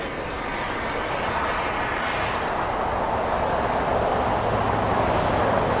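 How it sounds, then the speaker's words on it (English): A Beechcraft King Air taxiing in on a taxiway at Los Angeles International Airport gives a steady, continuous turboprop engine roar with broadband rumble, moderately loud and unbroken throughout. "A little a King Air coming in. Taxiway Alpha."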